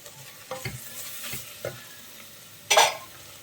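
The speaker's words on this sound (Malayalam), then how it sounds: "ഇനി എല്ലാം കൂടി നന്നായിട്ടൊന്ന് മിക്സ് ചെയ്തെടുക്കാം" Crushed ginger and garlic sautéing with onions for a mutton curry, a few scraping stirs of a spoon in the pan over a soft sizzle, ending in a louder burst of frying.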